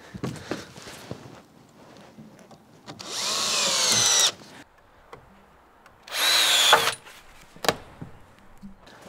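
A power drill drives screws into a wooden base, with two loud whirring bursts of about a second each separated by quieter handling clatter and footsteps, and no talk.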